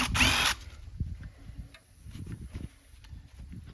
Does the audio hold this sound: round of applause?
no